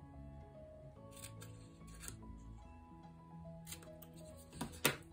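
Scissors snip out the corners of a leather folio piece, a few soft, scattered cuts over a faint room hum with no talking.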